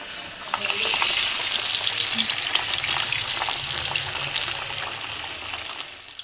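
Mixed-lentil vadas deep-frying in oil make a loud, bubbling hiss that surges up after a quiet start and holds steady, easing slightly toward the end.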